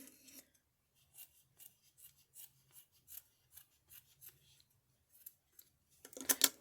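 Scissors snip through decorative paper while trimming ornaments, a steady series of short, quiet cuts at a regular rhythm, ending in a louder rustle of paper close by.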